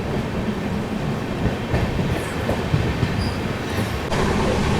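The Cocanada Superfast Express (12776, Lingampalli to Kakinada Town) picks up speed, heard from on board as a loud continuous rumble of wheels on the rails with faint rhythmic clatter and brief squeals, no voices.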